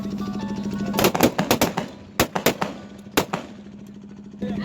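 Ceremonial rifle volleys fired as a salute at a state funeral: two volleys of rapid, ragged cracks spread over a few seconds, loud and echoing outdoors over a steady crowd murmur.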